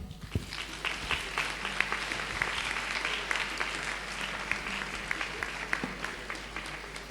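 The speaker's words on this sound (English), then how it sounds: "So please keep the applause coming" Graduates and guests applaud at a university graduation congregation, a steady crowd of clapping at moderate distance with a low constant hum underneath.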